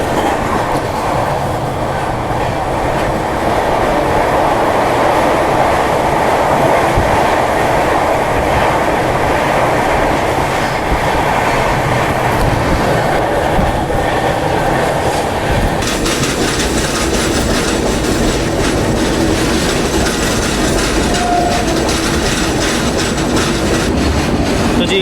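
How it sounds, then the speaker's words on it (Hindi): An Indian passenger train runs on rails, with a loud, steady rumble and repeated clickety-clack from the wheels heard from inside the coach, continuing throughout with no talk. "इटावा के बाद हमारी ट्रेन जो है वो स्किप कर रही है टुंडला जंक्शन को"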